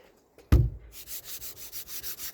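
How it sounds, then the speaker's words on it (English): A single thump, then rhythmic back-and-forth scraping strokes like sandpaper rubbing the body of an Austin Princess car, close and evenly paced, about eight strokes. "that sounds like sandpaper"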